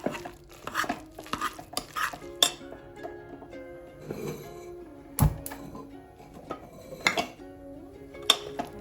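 Repeated clanks and scrapes of a utensil against a metal pot as cooked jackfruit is mashed, irregular knocks and stirring sounds, close up with no talking.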